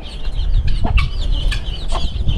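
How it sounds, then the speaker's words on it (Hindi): Chickens cluck and squawk close by in an uneven, busy chatter over a low background rumble. "सनान भाई मुर्गी बंद करें, चलो चलो पहले मुर्गी बंद करते हैं।"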